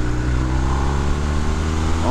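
A 2019 BMW R1250R Sport motorcycle's boxer engine runs at a smooth steady drone during riding, a loud low continuous hum with wind rush and no distinct revs.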